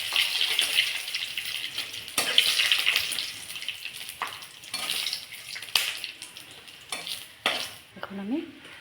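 Five-spice, dry chillies and bay leaves crackle and sizzle as they temper in hot oil in a home kitchen, with a spoon stirring and scraping the pan and a few sharp clinks.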